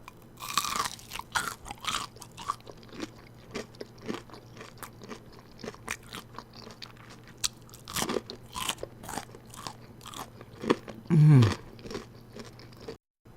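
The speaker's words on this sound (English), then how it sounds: "here is your little bite, and I want you to check out the crunch" Crispy fried pork loin nugget being bitten and chewed up close, with a run of dry, crackly crunches repeating over several seconds and a louder crunchy burst near the end, no talking.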